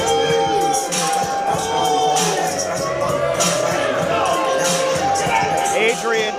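Pro wrestling crowd roaring for the tag team Los Suavecitos' entrance at a West Coast Pro show: a loud, continuous wash of cheering and hubbub with entrance music underneath and swelling shouts throughout.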